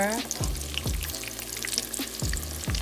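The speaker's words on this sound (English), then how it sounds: "dip them in the breadcrumbs, then you're gonna put them straight to fry" Breaded eggplant slices fry in oil in a pan over medium-low heat, giving a steady close sizzle with several soft knocks and scrapes as pieces are placed or moved, under a faint voice.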